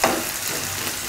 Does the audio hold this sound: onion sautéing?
yes